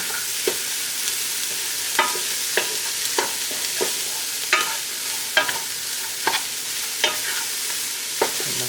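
Onions and spices stirred in a hot pan for vegan malai kofta, a steady close sizzle broken by a regular series of sharp scraping and clinking strokes from the spoon against the pan, with no talking.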